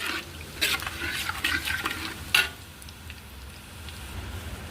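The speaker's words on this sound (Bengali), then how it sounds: "পাঁচফোড়ন আর শুকনো লঙ্কা আমি এর মধ্যে ফোড়ন দিয়ে দিলাম দিয়ে আমি ভালো করে ফোড়নটাকে একটু ভেজে নেব" Panch phoron and dried red chillies frying in oil for khichuri, with a few brief clattering stirs against the pan over a soft, steady background sizzle.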